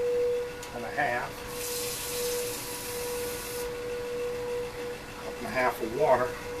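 Water poured into a cooking pot, measured out at one and a half cups for a Sunday roast chicken dinner, a steady hissing stream lasting about two seconds between stretches of talk.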